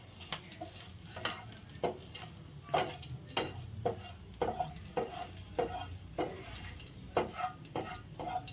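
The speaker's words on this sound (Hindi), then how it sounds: "तो अभी इसको थोड़ा सा मैं हिला के वो कर कि ये हर साइड से भून जाए" Pasta fries in a non-stick pan while a spoon stirs it, producing a rhythmic run of scraping strokes roughly once a second over a soft, continuous sizzle, close and clear with no talking.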